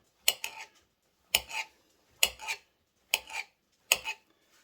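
A knife chopping wild mushrooms on a cutting board: five evenly spaced, crisp double knocks, close and clear, with quiet gaps between each cut.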